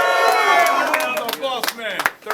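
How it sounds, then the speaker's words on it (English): Crowd at a live battle rap event cheering, whooping and clapping, loud at first then thinning into scattered claps and shouts, with voices mixed in. "Everybody make some noise for these guys"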